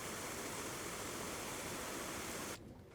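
Water sprays steadily from the outdoor washdown shower at the back of a Mercedes Sprinter camper van conversion. It makes a dense, continuous hiss and then cuts off abruptly near the end.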